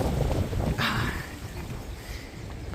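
Strong wind buffets the microphone with a loud, rumbling roar that surges and eases, gusting throughout.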